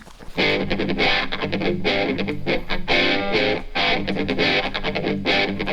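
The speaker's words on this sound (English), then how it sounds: "that kind of wah-wah pedal sound is coming from the envelopes generated by the percussion interface" Distorted electric guitar run through a modular synth with a pulsing wah-wah sweep from percussion-interface envelopes, chords swelling and cutting in a rhythmic pattern, loud and upfront with no speech.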